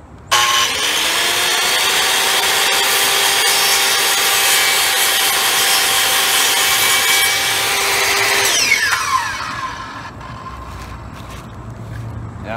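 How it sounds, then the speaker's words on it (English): A power saw cuts a notch out of a wooden door jamb, running loud and continuous for about eight seconds before the blade winds down and the whine fades into quieter room noise. "I'm going to pull the trigger and cut this notch out."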